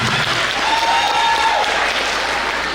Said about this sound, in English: let's give a round of applause for our Student Lighthouse team.